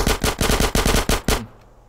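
Automatic gunfire in the video game GTA San Andreas: a loud, close burst of about nine rapid shots in a steady rhythm, then a quick fade with no talk.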